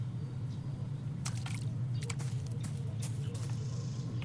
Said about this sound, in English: A simple hit makes them pop with the pressure from the water within.